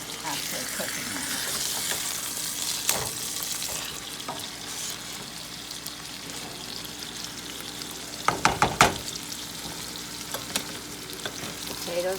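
Meatloaf patties brown in a hot frying pan with a steady, close sizzle throughout, a few brief clattering scrapes near the end as they are moved about.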